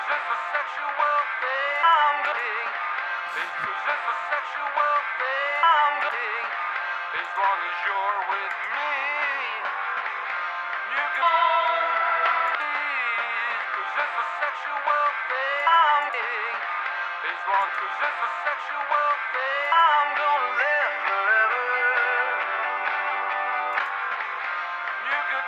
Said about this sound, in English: a reverse panned reverb might help with that.